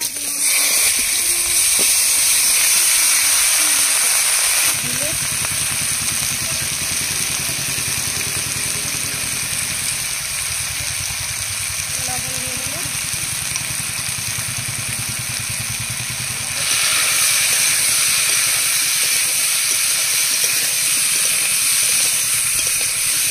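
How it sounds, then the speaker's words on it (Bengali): Potatoes and green banana with nigella seeds hiss and sizzle steadily in hot oil for the length of a long, close, unbroken fry. The sound drops a little in the middle and then rises again, with no voices. "এবার ধুয়ে রাখা আলু আর কলা দিয়ে দেবো।"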